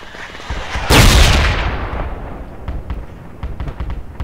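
A mortar barrage in the video game Project Reality sounds as a loud, close explosive blast that decays into a rumbling tail, followed by fainter distant cracks and pops.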